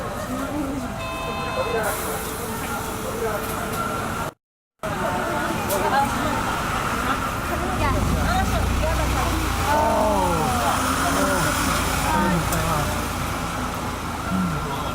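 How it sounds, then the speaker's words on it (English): Street traffic in Kyoto with a city bus passing among cars, a steady roadway rumble and passing engine swells, a brief horn toot early on, with crowd chatter in the background. "So that bus you guys just saw, we were trying to catch it."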